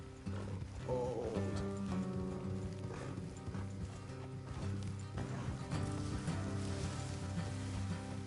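Horses walking along an off-road trail in the video game Red Dead Redemption 2, hooves clopping in an uneven steady rhythm under a soft ambient music bed, moderately near.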